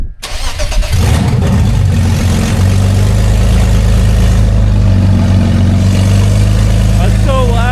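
BMW E46 with newly installed headers starts up and revs: a sharp crank burst, then a loud, raspy engine roar that holds and swells with throttle blips, close by, with people talking over it.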